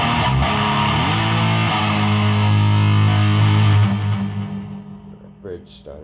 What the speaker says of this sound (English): some regular distortion. This is called Metal Land actually